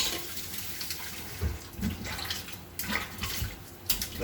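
Shrimp and chicken being washed under running water in a sink, a steady splashing flow with uneven sloshes and drips as the pieces are handled.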